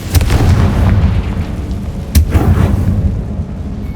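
Two booming blasts from the Confringo spell in Hogwarts Legacy. A loud explosion comes right at the start, then a second one arrives about two seconds later, both rumbling before fading out.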